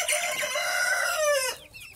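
Chickens in a henhouse cackle loudly and continuously with a rooster's crow rising near the end, close and busy, with no talk over them.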